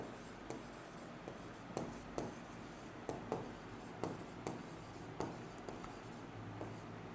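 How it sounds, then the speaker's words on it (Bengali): A pen scratches on paper as someone writes out the answer to a maths problem by hand. Short strokes and small taps come in an uneven rhythm, soft and close, with no talking. "সুতরাং উত্তরটা লিখছি"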